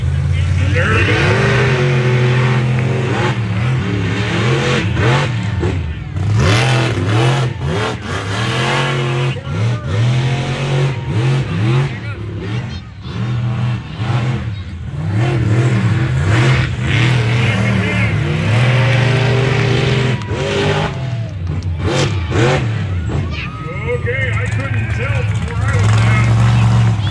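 Monster trucks at a show revving and racing, loud engines rising and falling in repeated roaring surges with a crowd-like wash behind, and people talking over them throughout.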